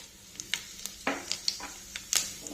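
Seasoning seeds dropped into hot oil with fried red chilli powder in a pan, crackling in a series of sharp pops and spits over a soft sizzle, no talking.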